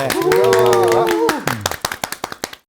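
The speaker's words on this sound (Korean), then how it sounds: "박수로 한번 청해 듣도록 하겠습니다" A lecture audience gives sparse clapping of welcome, at first under a speaking voice, then a run of distinct separate claps before they stop abruptly.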